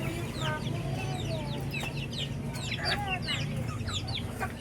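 Chickens cluck and chirp steadily around a farmyard, some calls close and some further off, over a constant low background hum.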